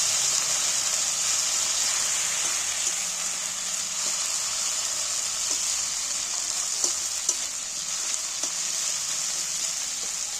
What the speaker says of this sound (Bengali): আদা রসুন তেলের মধ্যে তুলে দিচ্ছি আদা রসুনটা একটু ভেজে নিচ্ছি